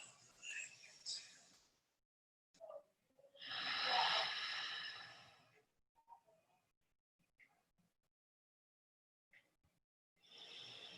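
Slow, audible breaths during a yoga flow class: long airy inhales and exhales spaced several seconds apart with quiet pauses between, close and fairly soft.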